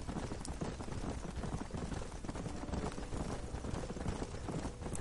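Several horses run in the video game Red Dead Redemption during a wild horse round-up, with dense, continuous hoofbeats blurring into a loud rumble and no talk over them.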